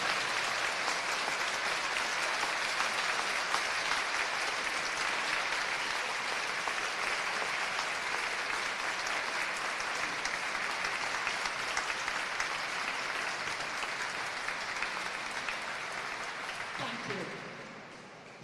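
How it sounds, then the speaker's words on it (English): An audience at a Wales netball event breaks into sustained applause, a dense, loud wash of clapping that carries on for many seconds before tapering off at the end. "if we could give a round of applause,"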